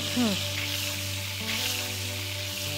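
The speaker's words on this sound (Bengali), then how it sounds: "তুমি কই মাছ ভাজছো।" Koi fish sizzling as it fries in hot oil, a steady close crackle over a low hum, with a brief tonal sound at the start and no clear speech.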